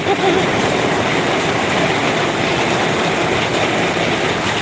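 Heavy rain falls during a storm in Phu Khiao district, Chaiyaphum, Thailand, as a dense, unbroken hiss that stays loud and even for the whole stretch, with no voices.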